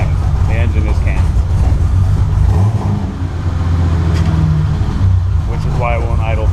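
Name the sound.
BMW M30 engine running with a cam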